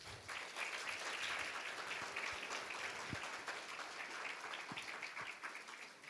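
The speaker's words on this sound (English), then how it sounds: "another round of applause for Steve." An audience at a Toastmasters district fall conference applauds steadily after a magic trick, a dense, even wash of clapping that is faint and distant and holds for several seconds.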